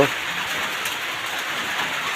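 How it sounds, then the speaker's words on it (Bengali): Steady rain falling outside a goat shed during the rainy season: a constant, even hiss of rain on surfaces, close and unbroken throughout. "কনস্ট্যান্ট বৃষ্টি হয়েই যাচ্ছে"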